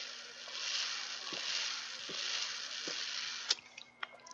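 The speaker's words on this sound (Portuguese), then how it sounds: "A garrafa da água faz barulho" Crinkling and sloshing of a plastic water bottle handled while someone drinks, close and fairly soft, ending with a few sharp plastic clicks.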